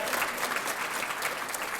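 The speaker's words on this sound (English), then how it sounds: "This award goes to Lily Rybka. Yes, you can applaud." An audience applauds award winner Lily Rybka at the University YMCA's Harold W. Colvin Award for Undergraduate Leadership, with steady, dense clapping that holds evenly throughout.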